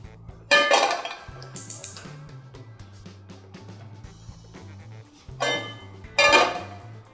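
Metal frying pan knocked and clattered on a home stove while cooking spaghetti, two bursts of sharp clanks near the start and two more near the end, with quiet gaps between.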